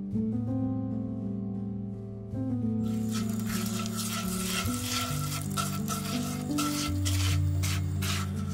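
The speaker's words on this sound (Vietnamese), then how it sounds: "đun nóng cho tan bơ và đường" Butter and sugar, 25 g butter with a spoonful and a half of sugar, heat and sizzle in a frying pan on the stove for a banana cake, a steady close frying hiss with stirring throughout, heard over continuous background music.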